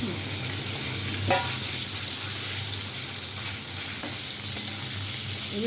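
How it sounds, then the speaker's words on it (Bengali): Five-spice seeds (panch phoron) and green chilies fry in hot oil with a continuous close sizzle, stirred now and then with a few soft scrapes and clinks. "তেলের মধ্যে 5 ফোড়ন, কাঁচা লঙ্কা দিয়েছি"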